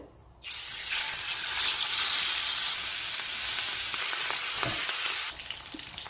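King fish coated in garlic and chili powder fries in a pan for a Chettinad fish fry, giving a loud, steady sizzle that runs for about five seconds before easing off.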